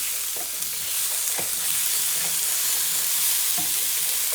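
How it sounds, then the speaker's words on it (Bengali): Vegetables fry in a pan with a continuous loud hissing sizzle, broken by a few soft scraping stirs of a spoon, close up with no talk. "ওইগুলো ফ্রাই হয়ে যাচ্ছে, একটু নাড়িয়ে দাও"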